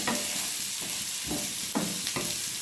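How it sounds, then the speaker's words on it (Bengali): Vegetables fry and get stirred in a pan while cooking chira pulao (flattened rice pulao) without turmeric: a steady, close sizzle with several scraping stirs roughly every half second to second, and no talking. "সবজিগুলো ভাজা হয়ে গিয়েছে।"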